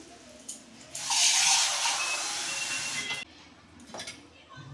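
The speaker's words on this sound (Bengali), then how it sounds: "এই যে জল দিচ্ছি আমি।" Water pours steadily into a pot of washed lentils with bay leaves, dried and green chillies and grated ginger, a bright rushing splash lasting about two seconds before stopping, followed by a few small clinks.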